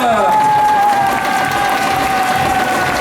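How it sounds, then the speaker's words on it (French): Crowd applauding and cheering at the close of a Coupe de France de robotique 2011 final match, loud and continuous, with a sustained electronic tone running through the clapping and a hint of voices in the hall. "on peut les applaudir"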